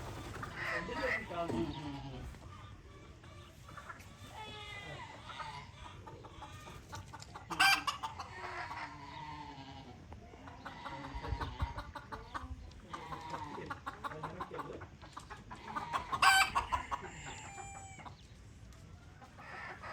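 Chickens cluck and a rooster crows on a village farm in America with a sheep pen nearby. Scattered clucks and occasional louder calls sit under people talking throughout.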